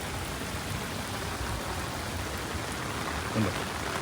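Heavy rain pours steadily in Dubai on flooded streets, a dense, even hiss of water filling the whole stretch without pause.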